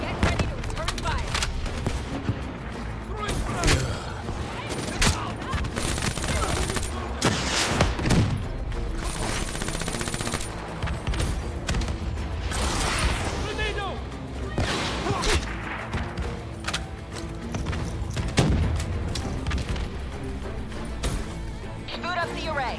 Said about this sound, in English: Get ready to return fire.